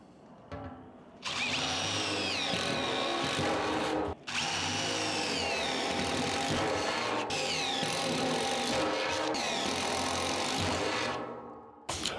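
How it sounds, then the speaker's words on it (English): A power drill whines steadily into a metal burn barrel for about ten seconds, briefly stopping once, with a high grinding tone and no talking. "when you drill and when you use your angle grinder on this metal"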